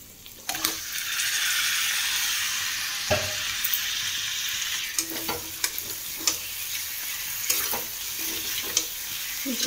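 Marinated meat drops into hot oil in a wok and sizzles loudly, with intermittent stirring clinks and scrapes from a utensil over a constant frying hiss.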